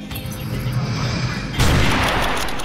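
Gunshots in the shooter game Secret Ponchos, a loud burst of sharp blasts partway through, sitting over a steady low game rumble.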